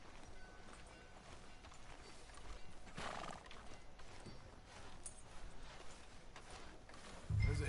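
Horse hooves clop steadily along a street in the Red Dead Redemption 2 video game, with occasional neighing, moderately quiet under game ambience and a thud near the end.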